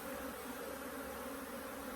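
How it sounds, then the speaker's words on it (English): Honey bees, many of them nurse bees shaken off a hive frame while a nuc is being set up, give a faint, steady, dense buzz close by. "I'm going to shake these off because there's a lot of nurse bees on that"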